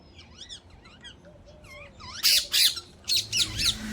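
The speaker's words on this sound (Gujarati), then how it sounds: "એક પોપટ પેલા વાયર પર બેઠો છે" A parrot sitting on a wire gives quick chirps, then a series of loud, rasping squawks close by, several sharp calls in a row.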